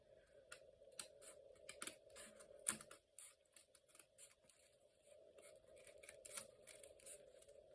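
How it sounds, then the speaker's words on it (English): A big pair of scissors cuts scrapbook paper along a line, giving a quiet, close series of crisp snips and slicing strokes at an uneven pace. "And now I'm going to cut following the line. I've got a big pair of scissors so it will cut through."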